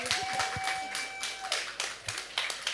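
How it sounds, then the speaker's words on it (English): An audience at a climate policy panel claps for the panelists, with scattered individual hand claps forming moderate, uneven applause and a faint steady tone running underneath. "shall we give a big round of applause to our panelists all together?"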